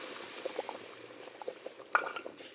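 Tadka spices sizzle softly in hot oil, faint scattered crackles and pops with one brief louder burst of frying near the end.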